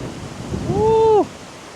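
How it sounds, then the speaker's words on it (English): Strong wind buffets a camera microphone at Lake Silverwood in Southern California, a loud rushing roar with a brief whistling tone near the end before the gust drops away. "The wind is going crazy."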